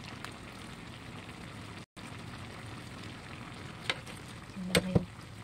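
Ingredients for ginataan na langka with crab sautéing in a pan, a steady soft sizzle running throughout with a couple of brief clinks and scrapes near the end.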